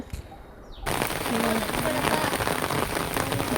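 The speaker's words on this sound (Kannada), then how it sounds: "ಆದರೆ ಹೋಗ್ತಾ ಹೋಗ್ತಾ ಫುಲ್ಲು ಜೋರು ಮಳೆನೇ ಸ್ಟಾರ್ಟ್ ಆಗೋಗ್ಬಿಟ್ಟಿತ್ತು" Heavy rain bursts in after a brief quiet moment, a dense, steady roar of downpour that stays loud and close to the end.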